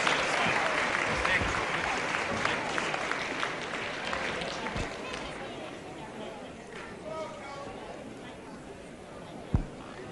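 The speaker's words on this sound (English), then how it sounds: "Now, there's no extra charge for applause. Now, give these boys a hand" Applause fills a wrestling hall for the heavyweight wrestlers, strong clapping at first that thins into crowd chatter, with an announcer's voice over it.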